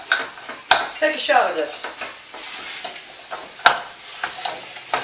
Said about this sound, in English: we're gonna cook it down till it's no longer pink